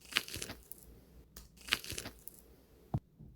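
Soft, wet squishing and crackling in two short bursts, close up, followed by a brief dull thump, with no talking.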